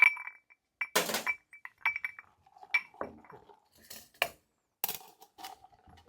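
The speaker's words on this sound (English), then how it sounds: "Here I have a block of ice." Ice clinking and knocking against a rocks glass during cocktail preparation, a series of sharp glassy chinks and rattles spaced irregularly with quiet gaps between.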